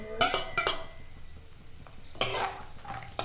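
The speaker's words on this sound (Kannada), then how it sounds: "ಸಾಸಿವೆ ಬಿಸಿ ಆಗಿದೆ, ಮೆಣಸಿನ್ಕಾಯಿ ಕಡಲೆ ಬೀಜ ಎಲ್ಲ ಹಾಕ್ಕೊಳ್ತಾ ಇದ್ದೀನಿ." Dried Guntur chilies and peanuts tipped into a hot pan of mustard seeds, giving a few loud close metallic clinks and scrapes of utensil on pan with a faint sizzle between them.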